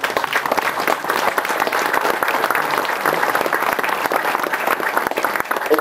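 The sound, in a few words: congregation applause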